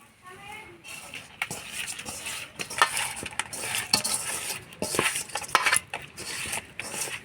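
Hilsa fish pieces being rubbed with turmeric and salt in a metal bowl, busy wet squelching and clinking of fish against the dish, continuous and close, with faint background noise.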